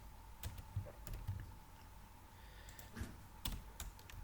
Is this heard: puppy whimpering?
no